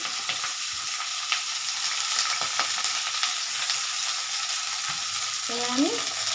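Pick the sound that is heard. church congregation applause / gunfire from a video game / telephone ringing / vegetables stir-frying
vegetables stir-frying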